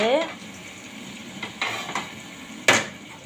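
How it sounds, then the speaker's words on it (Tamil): Sautéed radish poured into a pan of hot oil, a sizzling fry with clinks of a metal pan and utensil, one sharp scrape near the end, close and moderately loud. "இந்த முள்ளங்கியை வந்து அப்படியே இதில் கொட்டிடணும்"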